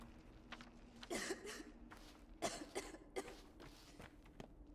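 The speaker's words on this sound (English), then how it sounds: "Who's that? Who's coughing?" A character in the video game Pathologic 2 coughs in several harsh, separate bursts spaced a second or so apart, fairly quiet, over faint footsteps and a low steady hum.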